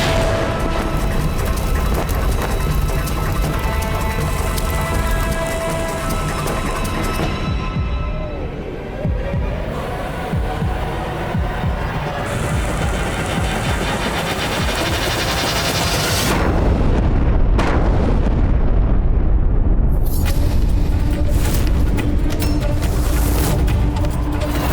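Mughal cannon fire and explosions in a battle scene, a dense, loud, continuous roar of booms, blasts and rattling gunfire with music-like tones underneath, swelling heavier in the second half.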